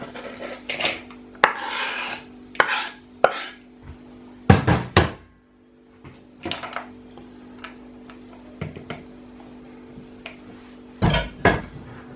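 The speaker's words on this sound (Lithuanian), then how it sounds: "Dabar dedam svogūną į indą." Pieces of chopped onion are scraped and dropped into a dish in short, separate bursts of rasping and tapping over about twelve seconds, close and fairly quiet, with pauses between and no speech.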